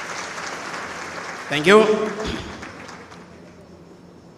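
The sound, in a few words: audience applause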